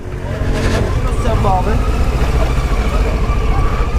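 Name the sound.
motorcycle braking with ABS rear brake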